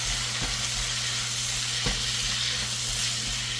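Garlic and turkey necks sizzle steadily in a pan, with a couple of sharp spatula scrapes standing out over the continuous hiss, and a low hum underneath.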